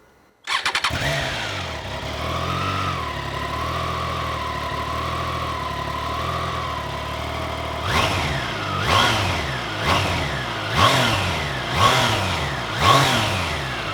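A 2021 Triumph Trident 660 triple-cylinder Euro 5 motorcycle cranks and fires up, settles into a steady idle with slight wavering, then gets five or six sharp throttle blips that rise and fall in quick succession, close and loud.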